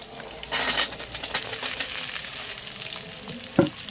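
Drumstick stems go into a pan of potatoes that are already frying. The soft oil sizzle swells briefly as they are added, keeps crackling quietly, and a single metallic clink of the spatula comes near the end.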